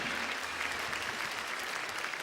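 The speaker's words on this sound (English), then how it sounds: "how about another round of applause for Supreme Master Ching Hai?" Audience applause at a peace music concert, a continuous even wash of many hands clapping at a distance, soft and steady throughout.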